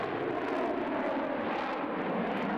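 A roaring F-16 fighter jet engine during a steep climb after takeoff, a steady, loud, broadband rush that is continuous and unbroken.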